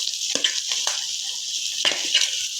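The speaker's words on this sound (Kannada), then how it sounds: "ಇದೆಲ್ಲವನ್ನು ಚೆನ್ನಾಗಿ ಈ ಥರ ಮಿಕ್ಸ್ ಮಾಡ್ಕೊಳ್ಳೋಣ." Salt, turmeric and boiled potatoes being stirred together in a pan for samosa filling, with a steady soft sizzle and a few sharp spoon scrapes against the metal, close and clear with no talking.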